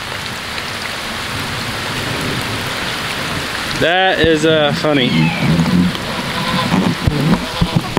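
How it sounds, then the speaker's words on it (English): Steady rain pours down on a farm, a constant hiss of drops on surfaces, with someone talking briefly partway through. "I'm gonna have a hard time focusing in this rain."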